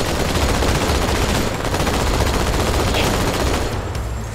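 Rapid, sustained gunfire from the Halo 2 Anniversary video game, with dense overlapping shots forming a continuous loud barrage for the whole stretch with no pauses.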